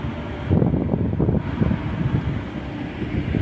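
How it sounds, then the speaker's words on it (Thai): Strong wind buffets the microphone at a rural railway station in Thailand, a steady loud rumbling roar with gusts swelling throughout. "วันนี้อากาศเย็นสบายมากเลยครับลมแรง"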